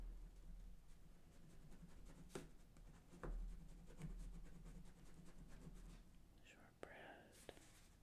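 A pen scratches across paper while dessert recipe names are noted down, quiet close strokes with a few light taps and faint soft whispering underneath.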